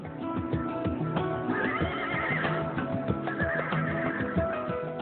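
Horses neigh and whinny repeatedly during horse-riding training, with steady hoof clip-clop underneath, loud and continuous with no talking.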